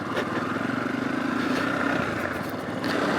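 A Royal Enfield Himalayan motorcycle fitted with a 14-tooth sprocket drones steadily while riding along a trail, its engine hum joined by constant rushing wind noise at moderate volume.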